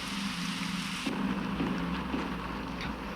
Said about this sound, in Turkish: evin içine yağmur yağıyor